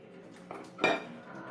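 Ube halaya mixture being stirred in a pot, giving a few soft scraping knocks and one louder clink of the spoon against the metal, close by and fairly quiet.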